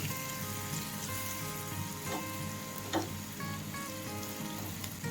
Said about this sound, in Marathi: कांदा पण लालसर परतून झाला आहे हळद चवीनुसार मीठ अगदी थोडीशी साखर आणि हे पुन्हा मिक्स करून घेऊ